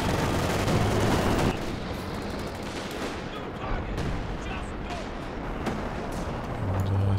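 Howitzer artillery fires during a large 4v4 battle in Company of Heroes 2: loud, dense rumbling blasts and crackling gunfire overlap, with a heavy burst at the start and repeated booms continuing behind.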